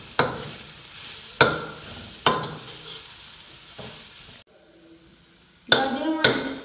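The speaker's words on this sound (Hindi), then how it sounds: "अब इसके बीच डाल देंगे गाजर, इसको अच्छी तरह फ्राई कर लेंगे" Carrots frying with garlic in a pan, a steady sizzle broken by sharp spatula scrapes and clacks against the pan, a brief lull, then more stirring knocks.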